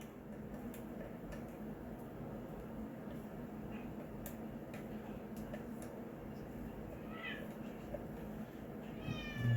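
A restless cat meows now and then, faint against steady room noise, behind a closed door, with a brief bright call near the end.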